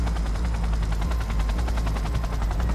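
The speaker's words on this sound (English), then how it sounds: "Wait for the helicopter to descend." A helicopter descends in the video game Cyberpunk 2077, its rotor blades producing a loud, rapid, even chopping thump over a heavy low engine drone that holds steady throughout.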